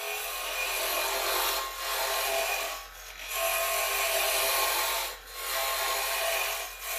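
A wooden pen blank spins on a lathe while a cutting tool shaves it, making a continuous hissing, scraping whir that dips briefly a few times as the tool lifts off.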